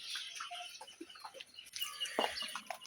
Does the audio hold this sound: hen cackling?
yes